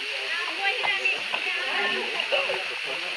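Sarswoti waterfall beside the Ganesh temple in Sindhuli, a continuous rushing splash of falling water heard under a person talking nearby.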